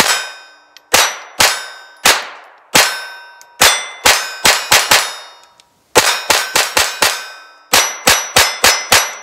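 A Ruger LCP II .22 pistol fires in quick bursts, each shot ringing out as a sharp, metallic clang, with irregular groups of shots and brief pauses between them, loud and close.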